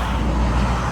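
Steady road traffic rumbles past outside a hospital on a rain-soaked day after a heavy overnight downpour, a continuous blended wash of car and truck noise with no single distinct pass-by.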